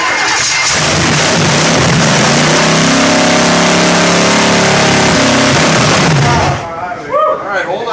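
A car engine cranks and catches, then revs loudly and steadily up close for several seconds before cutting off abruptly, leaving faint background sounds.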